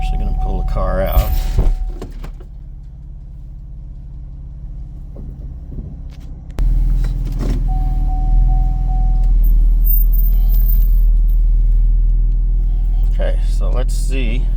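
A 2014 Chevrolet Camaro's engine idling and then pulling out in reverse, heard as a low, steady rumble near the microphone. A door thunk and a jump in engine level come partway through, with people talking over it.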